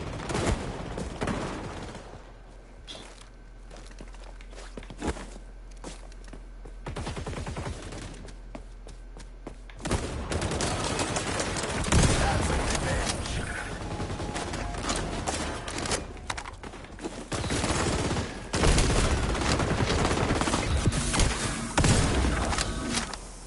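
Gunfire in the first-person shooter game xDefiant crackles in bursts of rapid shots and thumps, with quieter stretches early and denser, louder volleys through the second half.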